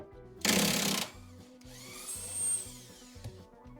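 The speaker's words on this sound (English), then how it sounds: "maybe I can do it with my big impact gun" A big impact gun loosening an 18mm bolt on a Citroën Picasso's rear suspension: one short, loud burst of rattling hammering, followed by a whining spin-down and low pulsing hum from nearby.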